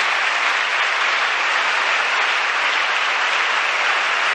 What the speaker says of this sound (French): sera saluée par une salve d'applaudissements